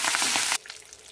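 Mustard seeds, chana dal, urad dal and curry leaves sizzle loudly in hot oil for about half a second, then the sound falls suddenly to a faint crackle.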